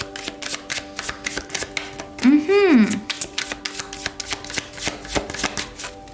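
Tarot cards shuffled by hand in a rapid, steady run of papery riffles over low, sustained background music tones, with a brief swooping sound midway.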